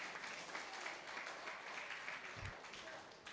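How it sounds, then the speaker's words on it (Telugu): An audience at a music meditation event claps loudly and steadily for about three seconds, a dense continuous patter with no talk over it. "ఒకసారి గట్టి క్లాప్స్"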